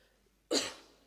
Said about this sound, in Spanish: Pido disculpas por la tos otra vez.